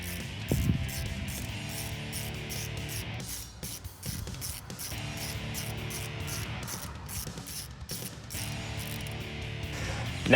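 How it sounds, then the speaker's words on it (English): Ratchet with a 15mm socket clicking steadily as it backs a bolt out of a 2009-2021 Dodge Charger with a 6.4 liter Hemi, a continuous close, rhythmic pawl chatter running the whole time with no talking. "we're going to remove this bolt right here with a 15mm socket"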